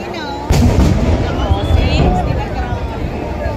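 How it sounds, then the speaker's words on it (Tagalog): Fireworks boom at Singapore's 59th National Day celebration at Marina Bay, a loud blast followed by rumbling bursts under a chattering crowd, with voices talking nearby. "Hindi, yung mga nagpapaputok yun."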